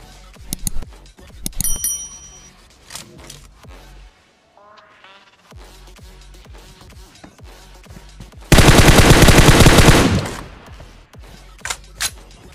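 Rapid automatic gunfire from the BGMI (Battlegrounds Mobile India) battle royale game, with scattered single shots and a loud sustained burst near the end, mixed with game sound effects.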